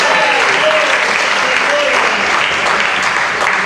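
A church congregation claps together in a loud, dense burst of applause that holds steady from start to finish, with a few scattered voices underneath.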